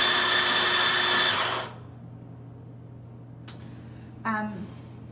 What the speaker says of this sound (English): This button right here is how you turn the grinder on,